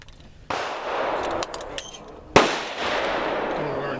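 Two sharp 9mm handgun shots crack at a shooting range in Elk Neck State Forest, the second louder and closer, each followed by a long echoing decay through the open range.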